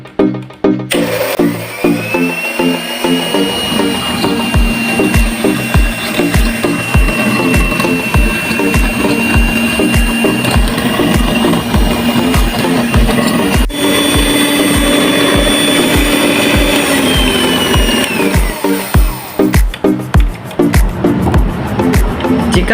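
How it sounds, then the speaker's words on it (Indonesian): An electric hand mixer whirs loudly and continuously while beating sugar, salt and egg yolks for mayonnaise, its motor pitch rising and dipping, with rattling and clicking at the start and end. "Selanjutnya kita mixer atau aduk sampai gula, garam, dan butir kuning telurnya tercampur rata."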